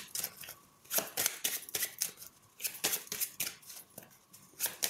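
Tarot cards shuffled by hand, a run of crisp riffling bursts and flicks in an irregular rhythm, close and fairly quiet, with no talk.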